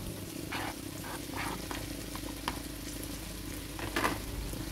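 Rice for mackerel fried rice stir-frying in a pan, a soft continuous sizzle broken by scraping stirs of the spatula, fairly quiet and close with no talk.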